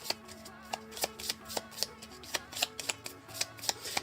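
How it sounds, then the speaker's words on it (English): Cards from the Star Trek: Captain's Chair board game are shuffled by hand, a run of crisp riffling snaps and slaps at an uneven rhythm, close and clear. "so we shuffle these back in"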